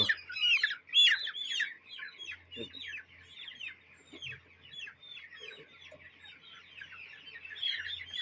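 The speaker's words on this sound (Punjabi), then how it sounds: "ਇਹ ਚੂਜੇ ਹਨ ਜਿਨ੍ਹਾਂ ਚੁੰਝਾਂ ਲੱਥੀਆਂ" Desi chicks caught by hand for beak trimming chirp in a dense, overlapping chorus of high peeps and clucks, loud at first and then steady throughout.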